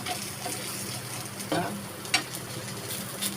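Rice flour pancake with mixed vegetables and a little gram flour sizzling steadily in a pan as oil is added around its edges, with a few brief scraping stirs.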